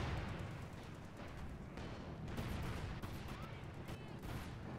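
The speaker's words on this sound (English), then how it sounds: "got the Cluster Bomb incoming." Cluster bomb strikes in Company of Heroes 2 land as a rolling series of booming blasts and crackling bursts over a busy battlefield din, fairly loud and continuous.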